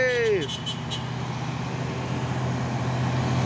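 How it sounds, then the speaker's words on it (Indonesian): A Mercedes-Benz trailer truck overtakes a container trailer truck on an open road. A steady, rumbling engine and road drone runs throughout, with a brief sliding horn-like tone at the start and someone talking over it. "Wah, sepertinya truk trailer Isoteng ingin mendahului truk trailer kontainer ini."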